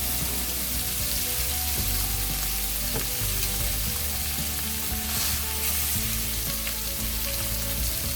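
A ribeye steak fries in hot oil in a pan, giving a steady, loud, close sizzle and crackle that runs unbroken throughout with no talking.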